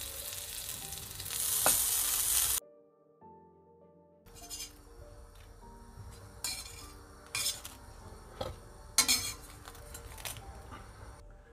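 Toast bread fries in a pan with a little butter in a home kitchen, a close sizzle broken by a pause, then clinks and scrapes of a utensil against the pan, with no voices.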